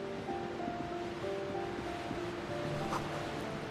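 Video game ambience of waves crashing in darkness: a steady, continuous wash of surf with a low sustained tonal hum underneath, no voices.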